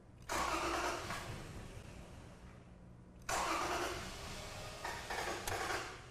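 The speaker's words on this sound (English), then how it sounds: "Let's go ahead and see if we can get a cranking pattern now." Car engine cranking, with a burst of starter churning, a brief lull, then a second crank that catches and settles into a rough run with small revs, close and clear.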